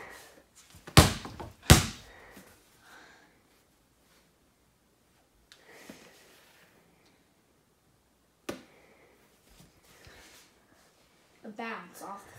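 A basketball bounces on the floor during a casual game of H.O.R.S.E., giving two sharp, close thuds in quick succession, followed by sparse quieter knocks and a few brief voices.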